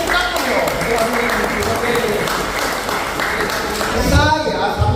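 Church congregation at a New Year worship service applauding steadily, a dense wash of clapping held through the clip, with voices mixed in and a brief louder swell near the end.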